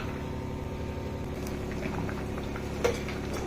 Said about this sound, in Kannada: ಈಗ ಚೆನ್ನಾಗಿ ಕುದಿ ಬರ್ತಾ ಇದೆ.